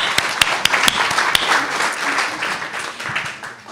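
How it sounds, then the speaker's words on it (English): Audience applause for speakers being introduced at a talk on the aging mind, a dense wash of clapping with a few sharp individual claps standing out, steady and moderately loud throughout. "please give us a round of applause for Judy and Rand"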